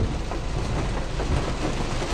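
Steady, dense rain pours down heavily, a constant broadband roar with low rumbling underneath and no voices.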